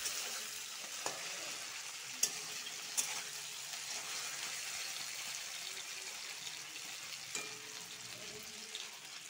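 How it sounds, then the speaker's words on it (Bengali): Paneer coated in turmeric and salt fries in a pan with a steady, quiet sizzle and a few sharp clinks of a utensil against the pan, no voices. "পনিরটা হলুদ নুন মেখে নিয়েছি, এটা লাল লাল করে ভেজে নিব।"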